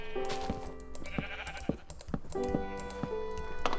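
Sheep in a video game bleating in short harmonic calls, with a sharp keyboard-like clicking scattered throughout and steady game sound underneath.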